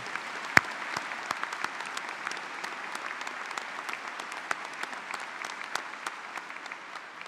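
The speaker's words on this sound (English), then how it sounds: "Let's give these veteran graduates and their family and friends and all members of our military community another round of applause" A university commencement crowd applauds veteran graduates, their families and the military community, a continuous even wash of clapping with a few sharper claps standing out, heard alone without speech.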